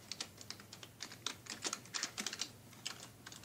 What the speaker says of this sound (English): I'll open Notepad and I'll type in my script